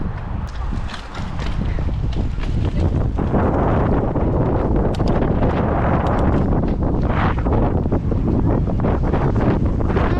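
Strong wind blasts across the microphone at an outdoor dirt jump spot, a loud rumbling buffet that roars almost continuously from start to finish.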